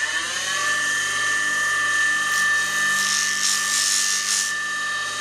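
Continuous high rasping hiss of 80-grit abrasive sanding furniture door handles, steady and close with a whining motor tone underneath and a brief swell of brighter scraping midway, no voices.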